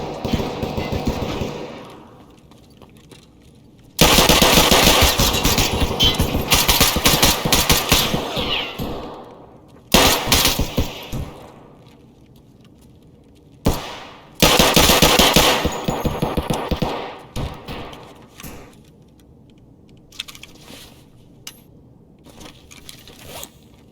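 Makarov pistol gunfire in Escape from Tarkov, with loud bursts of rapid shots in three main bursts and a brief pop between them, separated by quieter stretches of gear handling and clinking.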